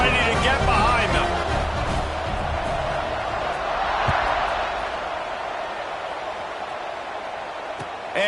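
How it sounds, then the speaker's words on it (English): Football stadium crowd before a kickoff in the final period of a tied game, a broad steady roar of many voices filling the space, with murmured babble and faint cheering throughout. "this crowd now ready to get behind them"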